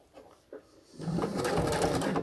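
Sewing machine stitches a bikini underwire channel: a couple of soft clicks, then a rapid, steady whirring run of stitching at close range.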